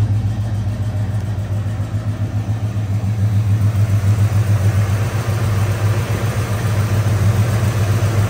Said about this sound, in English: Let's hop out and give a listen to this awesome sounding engine.